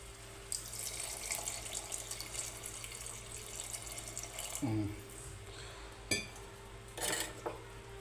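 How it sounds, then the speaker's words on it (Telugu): Water pours from a tap into a pressure cooker of chicken curry, a steady hissing stream in a kitchen, followed by a few sharp clinks of metal pots and utensils, fairly quiet. "ఇప్పుడు మనం ఇందులో నీళ్లు పోసుకుందాం"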